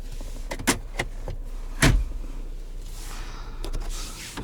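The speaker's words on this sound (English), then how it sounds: "Sunroof." A power sunroof opens on a 2021 Dodge Durango GT Blacktop Edition: a few sharp clicks and a solid thump inside the cabin, then a soft whirring motor slide near the end.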